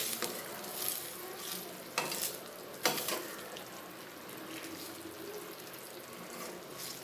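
Potatoes for a pepper fry sizzle gently in a pan, with a few scraping stirs early on, then a quiet steady hiss.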